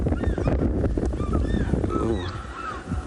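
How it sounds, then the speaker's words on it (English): An African fish eagle calls near a South African safari watering hole, a series of high ringing yelps carrying from a distance under a man's brief exclamation and wind noise. "I was about to forget that sound you just heard. African fish eagle."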